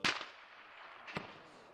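Two sharp gunshot cracks ring out in a combat zone, a loud first report and a fainter second about a second later, each trailing off into a brief echo.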